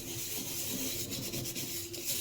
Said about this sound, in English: So I'm gonna wash this with some baking soda.